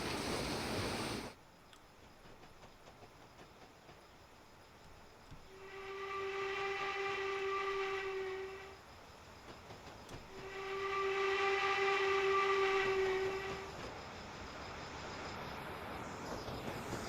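A train whistle sounds twice in a train simulator game on the Western Lines of Scotland route. Two long, steady blasts of a few seconds each ride over a low rumble of rolling stock, with no voices.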